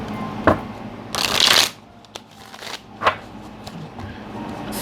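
Tarot cards are shuffled close by in short bursts, a sharp riffle followed by a longer flurry and then a couple of lighter flicks, with quiet pauses between.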